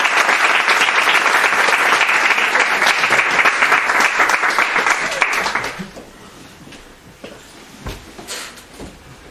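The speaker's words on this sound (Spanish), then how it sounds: "Recibámosle pues con un fuerte aplauso" A lecture audience gives a welcoming round of dense, loud applause that holds for several seconds and then fades away into scattered claps and room noise.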